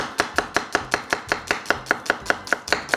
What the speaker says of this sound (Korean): 양파 하나 열에 가하지 않기 때문에 아주 얇은 슬라이스로 썰어서